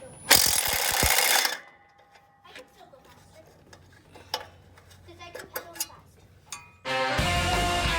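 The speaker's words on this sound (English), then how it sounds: "So there's some screws you need to take out." Headlight screws on a 1995 Jeep Wrangler YJ are worked loose with a hand tool, with scattered small clicks and metallic ticks between louder bursts of clattering noise at the start and end.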